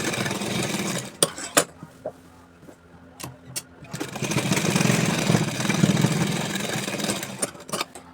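A sewing machine runs two rows of top stitching over a pleat on a salwar. A few sharp clicks lead into a steady motor whir in the middle, then more clicks near the end.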